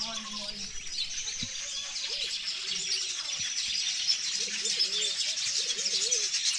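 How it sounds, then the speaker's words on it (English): Birds chirp and sing steadily throughout, several calls overlapping at a moderate distance, with a dove cooing softly underneath, on a morning in the countryside at Tintiba, Gambia. "Hear the birds."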